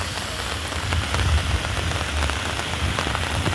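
Steady rain falls over Brussels, seen from the Mount of Arts amid grey skies and construction cranes, a dense continuous patter on surfaces with low rumbling wind underneath, no voices.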